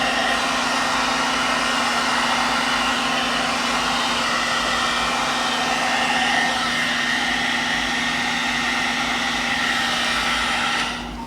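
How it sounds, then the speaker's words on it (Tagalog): A hair dryer and styler brush on its medium setting blows steadily with a constant whirring hum and airy rush, running continuously without a break until it cuts off at the end. "it is a hair dryer and styler"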